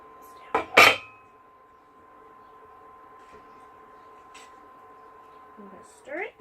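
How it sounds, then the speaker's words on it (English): A spoon knocks twice against a pan of vegan tofurky sausage and brown rice jambalaya, two sharp clinks near the start, then a low steady hum and a faint scrape near the end. "We're going to stir it and try to get all the sausage bits incorporated."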